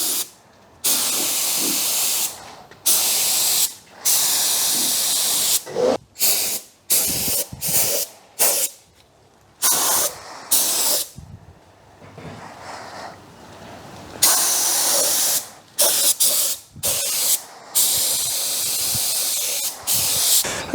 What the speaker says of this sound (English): I think it should be right to get this epoxy sprayed